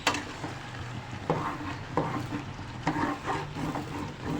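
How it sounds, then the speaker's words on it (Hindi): Chicken gizzards frying and being stirred with green chilies and coriander in a pan of oil, a steady sizzle broken by a few scraping stirs, close and fairly quiet. "अब हम इसकी भुनाई करेंगे।"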